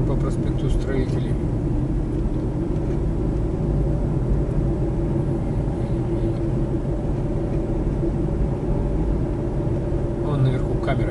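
A car driving along a snowy avenue in a Siberian city in winter, a steady low engine and road rumble from inside the cabin, continuous and fairly loud with no clear voices.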